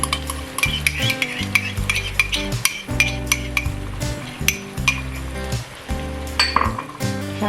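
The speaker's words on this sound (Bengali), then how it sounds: "এখন আমি এতে টক দইটা যে ফেটে রাখছি টক দইটা দিয়ে দেবো।" Beaten sour yogurt is stirred into a sizzling masala for a prawn bhuna, with steady spoon scrapes and metallic clinks against the pan over a low sizzle and a faint steady tonal hum.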